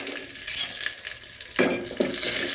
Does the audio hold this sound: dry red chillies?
yes